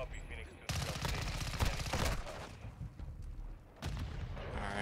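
Rapid gunfire from a VTOL killstreak in Call of Duty Modern Warfare 2 comes as dense, loud bursts of shots, paused briefly before a final burst.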